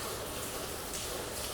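Heavy rain pours down inside a roofless old prison building, a dense, even roar of falling water that fills the space without a break, close and loud, with no voices over it.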